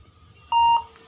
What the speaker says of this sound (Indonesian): Oke, sudah muncul atau sudah terdengar beep.